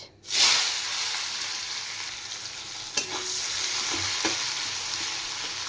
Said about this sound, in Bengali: পেঁয়াজটা হালকা ফ্রাই করে নেব